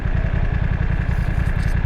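BMW F900 XR motorcycle engine running with a steady, loud low-pitched throb and mechanical clatter, close and continuous, with no one talking.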